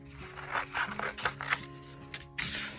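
Scissors snip through folded paper while a shape is cut for a craft drawing of orchid house plants, giving a run of close, crisp cuts and rasping rubs with no talk.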